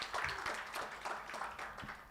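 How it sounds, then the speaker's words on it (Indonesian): Audience applause at an investor relations forum, a short burst of scattered clapping from a modest crowd, fairly faint and uneven, with individual claps audible in the mix. "kita beri tepuk tangan untuk kita semua"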